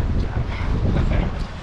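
Wind blows hard outdoors at a Florida oyster farm on the water, a steady rushing roar buffeting the microphone without pause.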